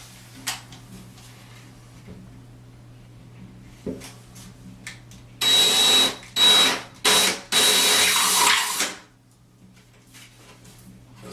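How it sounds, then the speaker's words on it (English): A power drill runs in several short bursts, loud and close, drilling holes into drywall, with brief pauses between them, then stops into quiet room tone. "drill your holes"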